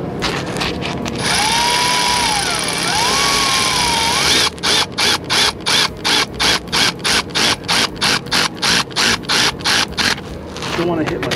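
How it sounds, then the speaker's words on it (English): A hand ratchet tightens fuel injector bolts on a Ford 6.0 diesel Econoline, clicking loudly and steadily in a long run of rapid, evenly spaced strokes after a stretch of dense mechanical noise close to the mic. "Wait for this ratchet to hit my knuckles."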